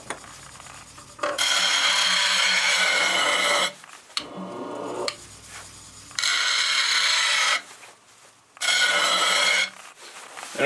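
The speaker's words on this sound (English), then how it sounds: "So I'm just going to sharpen these bowl gouges really quickly." Bowl gouges for woodturning being hand-sharpened, likely on a grinder: three sustained bursts of loud, bright rasping grind, each a couple of seconds long, separated by brief quieter gaps.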